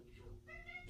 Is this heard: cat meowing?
yes